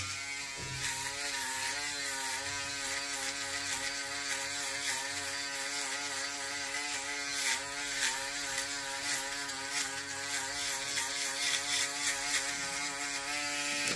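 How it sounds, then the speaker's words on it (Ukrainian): Electric shaver running steadily for the whole stretch, a close, constant high-pitched buzz with a harmonic motor whine, used to smooth fine stubble, with no talk over it. "у нас є на допомогу приходить шейвер"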